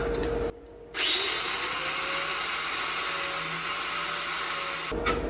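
Power grinder working down a weld on a Kia car frame, a loud high whining grind that spins up after a brief pause and runs steadily before cutting off.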